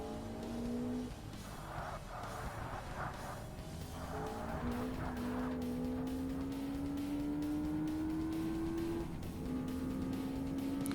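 A Lotus Exige race car in Forza Motorsport hums along with a steady tonal engine note whose pitch sags and climbs as the car brakes and accelerates, with brief tyre noise mixed in.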